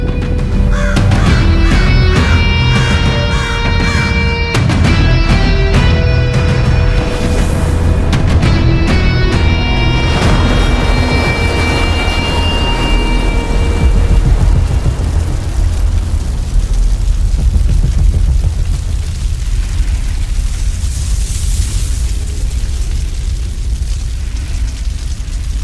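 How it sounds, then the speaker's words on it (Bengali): Fireball crashing down onto Victoria Memorial Hall in Kolkata as a film effect: loud, sustained rumbling blast over steady tones and cawing crows early on, the roar thinning out and fading away toward the end. "আচমকাই একদিন কলকাতা ভিক্টোরিয়া মেমোরিয়াল হলের উপর"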